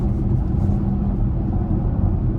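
Steady low rumble of 21-inch tires rolling on pavement, heard from inside a moving 2018 BMW X3 M40i, constant and unbroken with no voices.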